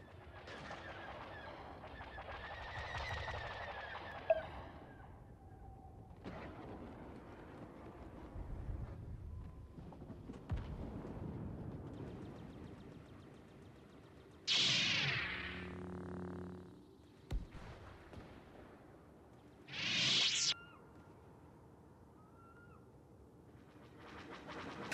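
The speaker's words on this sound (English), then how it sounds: "3 starfighters will fly through the canyon and an explosion will eventually be seen from the distance when they disappear from view with some cool sound effects" Starfighters in Star Wars Battlefront streak through a canyon with whooshing, screeching flyby effects, including two sharp, loud passes, among quieter rumbles and distant booms, ending in a faint far-off explosion.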